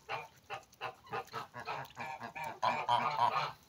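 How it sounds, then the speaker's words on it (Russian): A small family of Muscovy ducks, four females, gives a rapid series of hoarse, honking calls close by, repeating in a steady rhythm and getting louder and busier toward the end. "Вот у меня семья индоуток."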